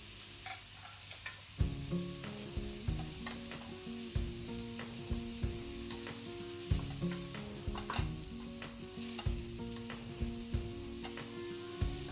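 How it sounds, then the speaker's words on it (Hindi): Onions frying with salt in a pan, a steady close sizzle broken by regular scraping clicks of stirring, with no voices. "मैं इसमें थोड़ा सॉल्ट ऐड कर रही हूँ ताकि जल्दी से अनियन पक जाए"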